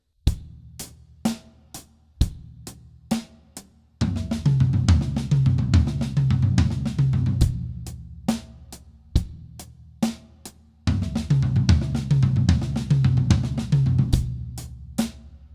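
Acoustic drum kit playing a sextuplet rotation fill around the toms, opening with sparse single hits, then dense continuous six-note runs over a steady cymbal and kick groove, loud and close with no talking.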